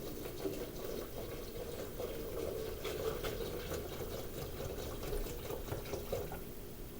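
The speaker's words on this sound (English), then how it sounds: "we use the normal vinegar and fill it in there" Ordinary vinegar is poured into a container holding lug nuts, producing a steady, fairly quiet liquid gurgle and splash that continues without a break.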